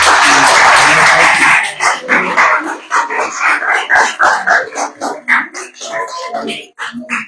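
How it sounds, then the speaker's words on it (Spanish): Audience applause for a writer at a book presentation, a short dense clapping burst at the start that quickly gives way to someone speaking loudly in Spanish for the rest. "otro aplauso para el maestro"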